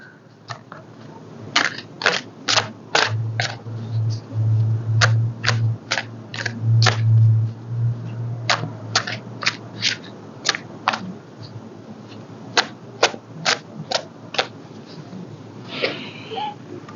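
Tarot cards shuffled by hand, a string of sharp papery riffles and snaps in uneven bursts, close and fairly quiet, with a low hum under the middle section.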